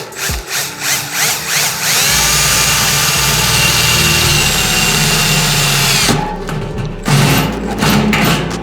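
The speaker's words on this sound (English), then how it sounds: "We'll start trying to drill here." A power drill whines steadily at high speed, biting into a 50-gallon drum with a grinding roar, briefly easing off near the end before revving up again.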